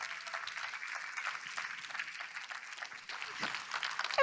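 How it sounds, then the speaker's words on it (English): At a sustainability plenary, an audience gives a warm round of applause for Dr. Julia Freudenberg, CEO of Hacker School: fairly soft, steady clapping from a hall crowd that carries on without pause. "give a warm round of applause for Dr. Julia Freudenberg, CEO of Hacker School"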